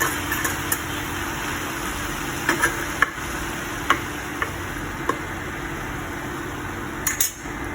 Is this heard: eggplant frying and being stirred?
yes